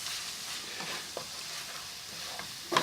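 A spoon stirs fried okra bhaji in a pan. Soft scraping strokes sound over a faint, steady sizzle, ending in a sharp clink near the end.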